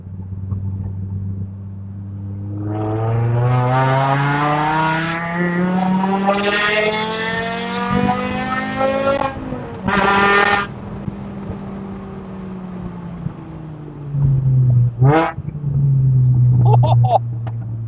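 Car with a custom 5-cylinder exhaust revs up while driving, the pitch climbing through several gears with a clear engine note, then rasping blips and bursts, heard loud from nearby with the windows down.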